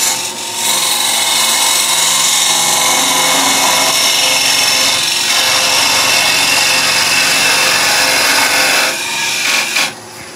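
Wood lathe spinning while a cutter skims open the bore of a turned tealight holder, a loud continuous close scraping and whirring that runs steadily for about nine seconds before easing off.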